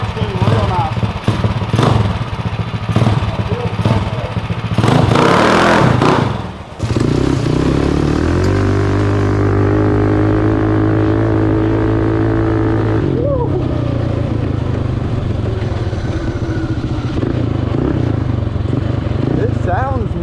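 A Wildcat 240RS side-by-side engine revs loud and close while riding across a field, climbing through gears with clattering and bumps, and someone talks over it.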